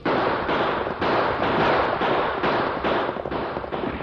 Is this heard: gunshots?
yes